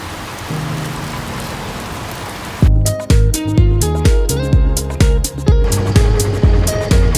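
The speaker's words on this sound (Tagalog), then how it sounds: "ang lakas ng ulan ngayon." Heavy rain pours in a dense, steady roar for a few seconds before loud music cuts in and plays over the remaining downpour.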